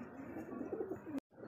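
A pair of black Mukhi pigeons coos softly in a low, rolling murmur for about a second before the sound cuts out abruptly, with quiet background hum.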